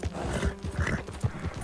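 Horse hooves clip-clop in Red Dead Redemption 2, a steady run of close, punchy thuds with a brief whinny-like tone in the middle.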